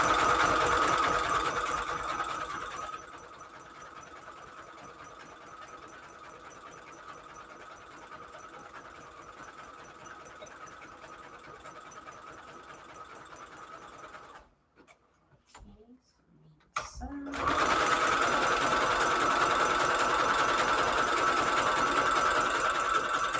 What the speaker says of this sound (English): I'm listening to my sewing machine, and it's starting to sound like it did when it needed to be